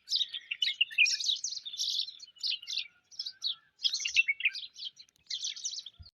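Small birds perched in a berry tree chirp and tweet in quick, busy bursts, a steady overlapping chatter of high calls close by with brief pauses, no voices.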